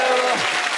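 A comedy show audience breaks into a short, loud burst of clapping, dense and close, lasting under a second.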